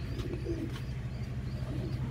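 An imported female pigeon of a valuable bloodline coos softly and close by in a few low, throaty pulses against a quiet background.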